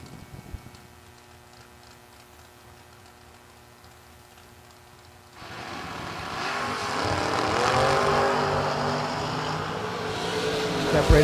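Drag racing cars, one a Chevrolet Camaro, launch down the strip: after several quiet seconds a loud, broadband engine roar bursts in and swells, staying close and powerful to the end.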